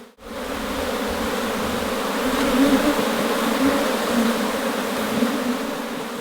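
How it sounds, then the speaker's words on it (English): Worker bees, female bees, swarm in a loud, dense, steady drone at an opened hive, close up and continuous with no talk. "All the others, or most of the others, are worker bees, female bees."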